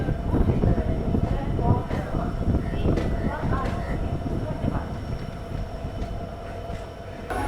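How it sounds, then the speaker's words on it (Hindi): Crowded railway platform as the Shalimar Express boards on the Jammu to Delhi route, with continuous train rumble and rail clatter under a busy crowd murmur and voices throughout. "काफ़ी क्राउड है स्टेशन पर इस टाइम।"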